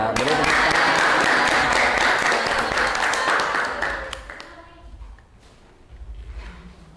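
Classroom audience applauding after a group presentation, a dense burst of many hands clapping for about four seconds that quickly fades, followed by quiet murmurs and faint talk.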